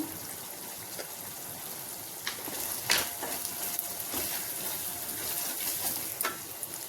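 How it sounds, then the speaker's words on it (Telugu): Onions frying in a pan hiss and sizzle steadily while being stirred after salt and chili powder are added, with occasional scraping clicks from the spoon. "ఇప్పుడు ఇందులో ఒక 1/2 స్పూన్ ఉప్పు, 1 స్పూన్ కారం వేసి కలుపుకుందాం."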